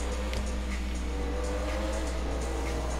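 Pfister Comet S2, modeled on a 2020 Porsche 911 Turbo S, driving in GTA 5 Online, its engine a steady, moderately quiet drone with a low rumble and no talk.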